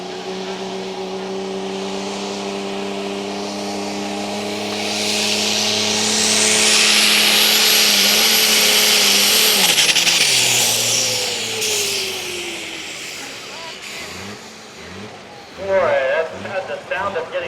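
Pulling truck at a truck and tractor pull, engine climbing to a loud high-RPM turbo roar as it passes close by, then fading as voices talk over it near the end.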